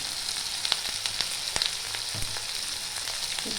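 Fish roe fries lightly in a pan with a continuous soft sizzle, dotted with small pops and crackles and a few faint clinks, no voices over it.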